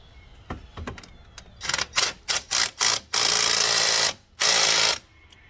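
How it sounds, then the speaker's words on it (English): An impact wrench on a 2008 Ford Focus starter motor bolt hammers in several short bursts, then two longer loud rattling runs, close and alone. "Tightening it with that impact."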